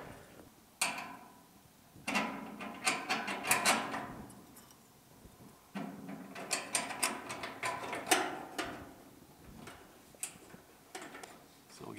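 A bolt is fitted and tightened on the trunk bracket of a GM A-body GTO, giving close, quiet ratcheting clicks and metallic taps in irregular bursts with short pauses between them.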